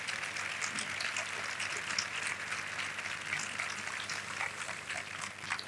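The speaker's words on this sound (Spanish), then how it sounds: "a quien recibimos con un aplauso" An audience applauds to welcome a guest at a talk session, giving a dense, steady wash of clapping that stays even and moderately loud with no break.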